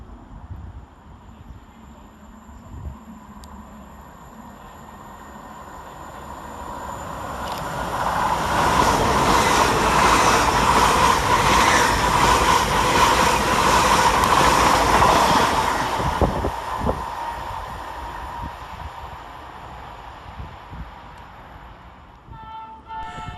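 A Class 800 train, unit 800-103, passes through Newark Northgate station, swelling from a distant rumble to a loud, steady roar with rail noise before fading away again.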